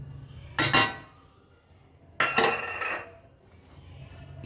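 A spoon scrapes and clinks against a pan while rice kozhukattai dough with salt and cardamom powder is stirred, giving two short bursts of metallic scraping close by with quiet pauses between them.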